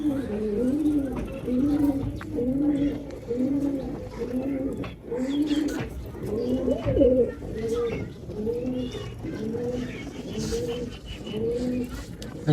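Pigeons coo in a steady run of repeated rolling calls at a pigeon loft where birds are feeding, close and moderately loud throughout, with faint background voices.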